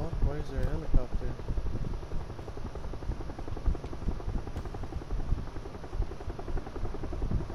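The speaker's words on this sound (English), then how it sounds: "Why is there a helicopter?" A helicopter in the PUBG video game gives off a steady, throbbing rotor chop that runs the whole time, with voices talking over it.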